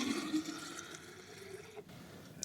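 Fresh water is poured into a jar of sweet tea for homemade kombucha, a soft, continuous splashing trickle that fades out near the end, with no speech.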